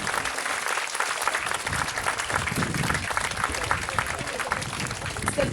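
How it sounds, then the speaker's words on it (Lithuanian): An audience applauds a folk band at a school centenary celebration, a dense, steady wash of many hands clapping that carries on without pause from start to end. "Negailėkime jiems plojimų."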